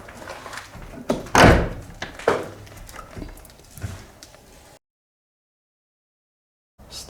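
An old house door being forced open: a series of heavy thuds and scraping bangs, one loud slam-like knock, then rattling, before sudden silence.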